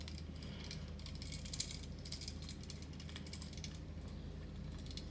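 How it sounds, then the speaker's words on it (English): Adjustable clamps on a pillar drill being tightened to grip a thin plastic piece, giving faint mechanical ratcheting and clicking over a steady low workshop hum, with a couple of slightly louder clicks. "Tighten them up so that we can grip the plastic securely."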